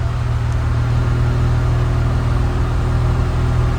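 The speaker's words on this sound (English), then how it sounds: "As we move to the rear, I'll give you a little listen to the tailpipes." Tailpipe exhaust of a 1989 Ford Thunderbird Super Coupe idling, a steady, subdued low rumble that stays even and continuous throughout with no other sounds.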